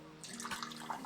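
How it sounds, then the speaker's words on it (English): Espresso drips from a Flair 58+ manual lever espresso maker, soft separate droplets falling quietly over about a second against a faint low hum. "This is still dripping."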